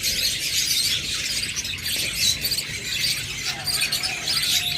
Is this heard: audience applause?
no